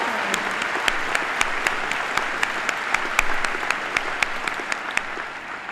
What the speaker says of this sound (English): Yep, I think we should applaud that.